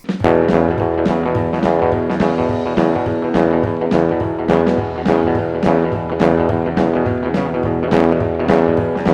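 Steady, full-band guitar playing with a bouncing, swung rhythm and plucked bass notes, loud and continuous with no talking.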